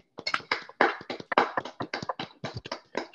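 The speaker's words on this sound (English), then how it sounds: "give him a physical round of applause" A small, sparse round of applause for a speaker at a building and AI lecture series: a few hands clapping close by in irregular, distinct claps for about three seconds, with no talking.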